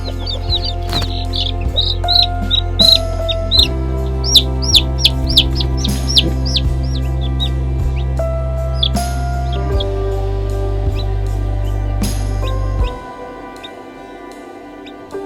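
Chicks peep in high, rapid runs near a clucking hen, the chirps bunched early and then scattered, all over a loud steady musical backing that cuts off near the end.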